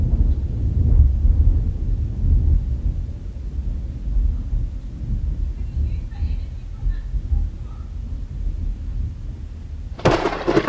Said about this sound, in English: this was the loudest crack of thunder I have ever heard